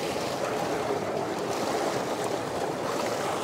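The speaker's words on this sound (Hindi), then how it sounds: "तो माशाल्लाह से यहाँ पे मोटर जो है वो चल रही है, और दूसरा पाइप लगा दिया गया है" A water pump motor runs at a home, forcing water through a newly attached pipe, heard as a steady, close, broadband rushing and gushing roar that continues without a break and with no talking.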